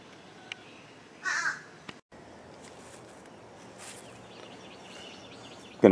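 Wild crows caw outdoors in a quiet rural garden setting, with a brief loud call near the start and another at the end over faint ambient background.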